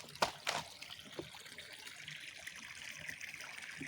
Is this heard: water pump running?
yes